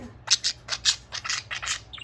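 A budgie squawks in a quick run of short, sharp, bright chirps and squawks, close by, over a faint low hum.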